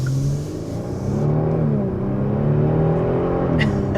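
A 2022 Kia Stinger GT2 engine and exhaust rumble steadily from close by, the note rising and falling slightly as the car drives, with no talking.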